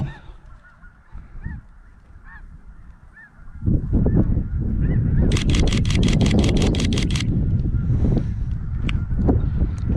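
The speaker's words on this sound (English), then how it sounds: "those are definitely snow geese" A flock of snow geese honks repeatedly at Loess Bluffs in Missouri, with faint calls at first, then a loud dense chorus of overlapping honks as birds come in to land nearby.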